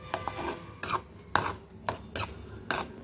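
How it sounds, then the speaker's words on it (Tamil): A thick mixture of rinsed dal and banana stem is stirred inside a pressure cooker, giving about six close, regularly spaced scraping clinks of a spoon against the metal pot, with no voices. "இப்போ இது எல்லாமே நல்லா மிக்ஸ் பண்ணிக்கலாம்"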